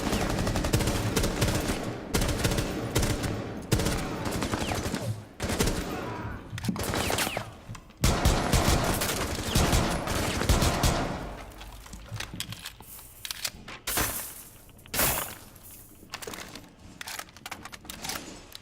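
Rapid, loud bursts of automatic gunfire and single shots from a first-person shooter video game crackle through a kitchen fight, dense at first, then thinning into scattered volleys.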